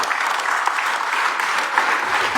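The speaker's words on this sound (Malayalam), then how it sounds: "ആവേശമൊക്കെ പറഞ്ഞ് കയ്യടി വരട്ടെ." Children applaud in a crowd, a steady, fairly loud wash of clapping that holds evenly throughout without letting up.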